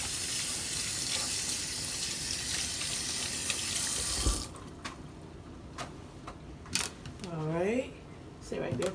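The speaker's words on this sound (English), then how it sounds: "Let's wash our hands." A kitchen tap runs steadily for hand washing, then shuts off abruptly, followed by a few clicks and knocks in a quieter room with a voice nearby.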